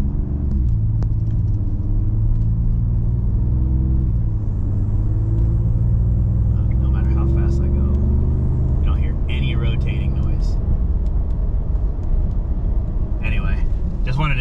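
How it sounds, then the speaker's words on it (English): A Nissan 350Z on aggressive all-terrain tires cruises with a steady low rumble of road and engine noise, fairly even throughout, while a voice talks over it. "You can hear that the tires are super quiet driving."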